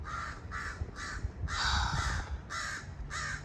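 Crows caw outdoors in repeated harsh bursts, about five or six calls in steady rhythm, fairly loud and close, with one longer drawn-out caw in the middle and no talk.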